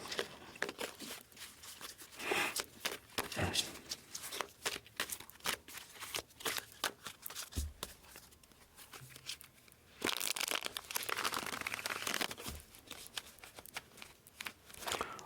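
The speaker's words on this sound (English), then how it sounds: "let's cut this deck and begin your messages" A tarot card deck being shuffled by hand, with a run of crisp riffles and flicks, quick papery bursts and soft taps, fairly close and continuous, without talk over it.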